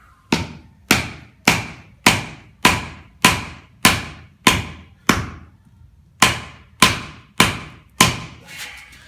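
Hammer tapping a burnt-out rear suspension bushing sleeve from a BMW E30 subframe, a dozen sharp ringing metallic blows at an even rhythm with a short pause partway through.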